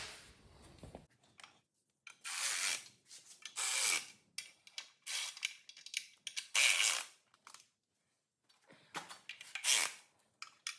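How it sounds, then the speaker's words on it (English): Wheel bolts on a 1969 Chevy C10 pickup being tightened gradually in a cross pattern, giving bursts of ratcheting and rubbing metal clicks separated by short pauses, close and moderately loud with no talking. "You want to tighten it gradually. So go over here, cross pattern, just work your way down."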